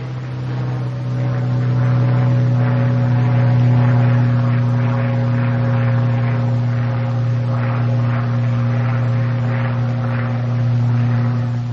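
North American P-51 Mustang climbing after takeoff, its piston engine and propeller giving a loud, steady droning roar that swells slightly and holds, with no talk.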